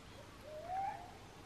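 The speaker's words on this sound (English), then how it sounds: "in the background, you probably can hear lots of birds" A single soft hoot-like bird call sounds faintly in a quiet countryside setting, with no other distinct birdsong.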